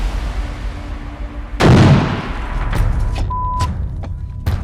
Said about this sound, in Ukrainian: Работает миномет.